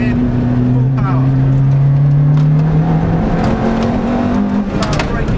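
A Ferrari F430's engine roars at full throttle, a loud steady drone that climbs gradually in pitch with faint wind and cabin noise around it.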